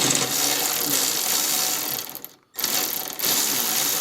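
A 10 mm window bolt is loosened inside the door of a 1996 Honda Odyssey, giving close, rapid ratcheting clicks that break off for a brief silence and then resume.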